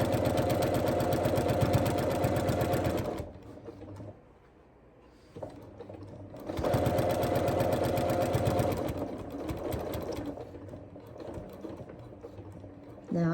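A sewing machine with a walking foot runs a quarter-inch seam on fabric scraps in two steady bursts of close, even whirring, separated by a quieter pause of a few seconds in the middle.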